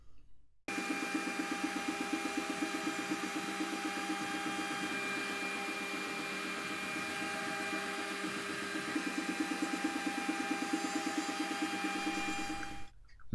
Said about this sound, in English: finishing the contour with a 1/4 inch ball head end mill